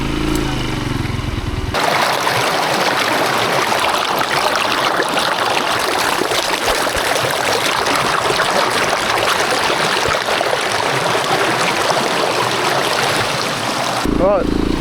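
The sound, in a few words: small river flowing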